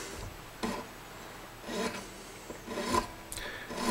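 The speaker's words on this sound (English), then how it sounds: "I can use one of my fret files too, actually." A fret file rasps against the front edge of a guitar nut on an American Fender Stratocaster, several short scraping strokes at close range, fairly quiet with no talk.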